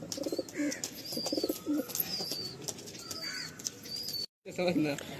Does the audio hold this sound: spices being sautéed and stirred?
no